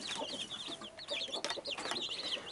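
A brooding hen clucks softly among her newly hatched chicks, whose high cheeping peeps repeat throughout, close up and steady with no talking.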